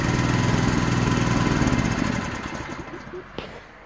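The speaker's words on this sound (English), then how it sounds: "shutting off the propane, and the motor will shortly quit." A Predator small engine converted to run on propane through a Tonco carburetor drones steadily and loud, then loses power and winds down to a stop as the fuel is cut.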